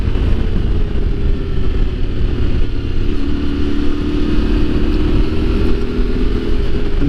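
A Yamaha Tenere 700 adventure motorcycle hums along a quiet Welsh back road, its engine a loud, steady drone with wind noise and a slight pitch shift as speed changes.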